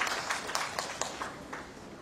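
Scattered claps from an event audience in Pune, distinct individual hand claps in an irregular rhythm, fairly close and tapering off, no speech.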